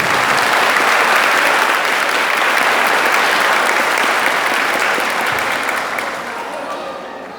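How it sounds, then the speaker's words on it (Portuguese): Loud, dense applause from a church congregation welcoming confirmation candidates at a Mass in Caiana dos Crioulos, sustained steadily and easing slightly toward the end. "vamos acolher a todos os nossos crismandos e crismandas com um caloroso salve"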